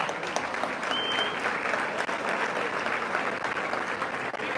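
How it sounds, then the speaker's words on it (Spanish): Applause fills a church gathering for a few seconds. Many hands clap steadily at moderate loudness, a little distant, with no speech on top. "Le damos un aplauso a la hermana."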